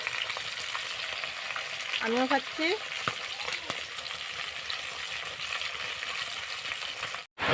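Fish fries in oil left over from frying papad on a new stove in an open village field, producing a steady, bubbling sizzle with a brief spoken voice partway through.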